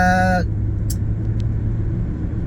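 A car drives along a road in the United States, its steady low engine and tyre rumble continuing throughout, heard from inside the vehicle, with a brief tonal burst at the very start and no speech.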